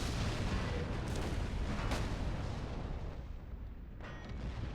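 85mm anti-aircraft guns firing in the war game Order of War, a dense rumbling battlefield roar with a few dull booms rising over a steady low wash of distant fire.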